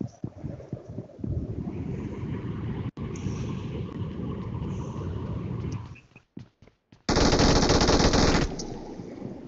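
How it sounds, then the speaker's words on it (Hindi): Rapid automatic gunfire from the BGMI video game rattles in long bursts over wind noise, with a sharp break and a final dense loud burst near the end. "गोली मार रहा है"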